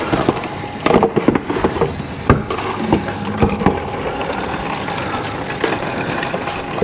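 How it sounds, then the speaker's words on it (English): Water from a tap with light pressure filling one-gallon jugs outdoors, a steady rushing, splashing flow with occasional knocks and handling clunks, and a faint engine rumble in the background. "I'm gonna fill these 2 up, and we're gonna run them through the Berkey."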